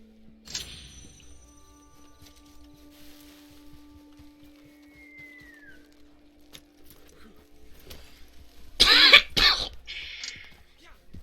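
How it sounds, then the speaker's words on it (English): A short burst of coughing from a person with a cold near the end, loud and close, after a stretch of quiet background with faint rustling. "Sorry for my cough"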